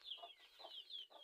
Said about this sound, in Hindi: देसी मुर्गी